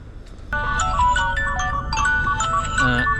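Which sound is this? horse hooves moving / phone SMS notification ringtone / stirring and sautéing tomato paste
phone SMS notification ringtone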